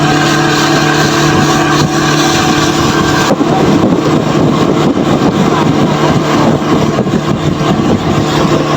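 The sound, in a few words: boat engine during a boat ride on a lake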